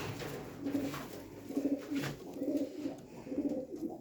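Several pigeons coo in repeated soft, rhythmic bursts close by amid a mixed flock, with steady low murmuring throughout and no talk.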